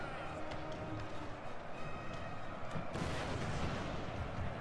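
Cannon artillery fire in the Total War: Napoleon video game, heard as a continuous dense rumble of battle with booming shots and a louder burst near the end, under voice.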